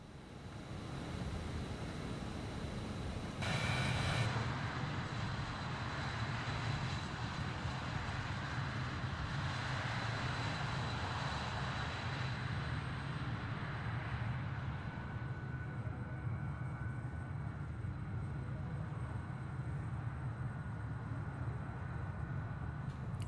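BAE 146 jet engines drone steadily in Microsoft Flight Simulator with flaps extended and high power, a continuous loud roar with a faint whine, unbroken and without talking.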